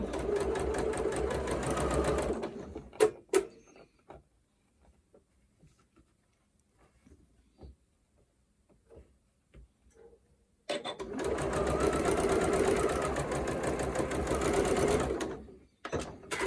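A sewing machine whirs in two bursts while stitching an orange peel quilt block, running steadily for about two seconds, then stopping for a quiet stretch of small clicks and handling, before sewing again for several seconds.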